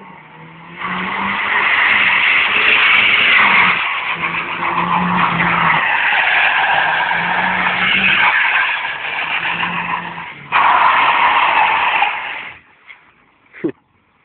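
A Nissan car drifting in Dallas, its tires skidding in a loud, close, sustained screech that breaks off briefly a few times and ends in a couple of short sharp bursts.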